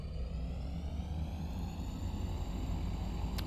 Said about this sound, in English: The rocket does have sound.